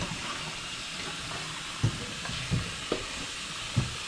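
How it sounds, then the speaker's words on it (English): Cold tap water running over freshly cooked mud crabs, a faint, steady watery hiss broken by a few soft knocks of shells shifting. "Now I'm just gonna run some cold water over these, just to take the heat out of the shells and slow the cooking time down."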